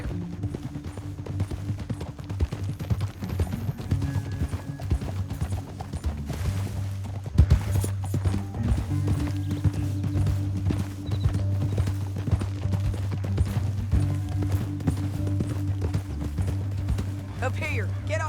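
Horses gallop in Red Dead Redemption 2, their hooves beating a steady clip-clop over a low rumble of game ambience. Voices talk over the hoofbeats, and a brief sharp burst cuts in midway.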